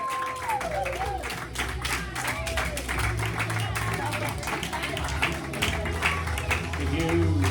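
Steady applause and clapping from a live comedy audience greeting comedian Gary O'Sullivan at a fringe festival show, continuous and moderately loud throughout, with a voice speaking over it.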